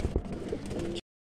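Pigeons of the Kalsira breed, a pair on sale, coo in low, soft bursts for about a second, close by.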